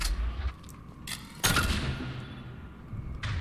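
Pistol gunfire in the video game Mass Effect 3, with a sharp loud shot at the start followed by a heavy burst of crackling fire and echoing rumble, then a lighter report near the end.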